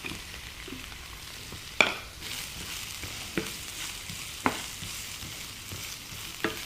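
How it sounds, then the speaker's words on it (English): Aromatics and spring onions frying in hot oil for beef bulgogi, a steady close sizzle broken by a few sharp spatula scrapes and clicks against the pan, with no talking. "Gonna fry the aromatics first, as always. Okay, spring onions."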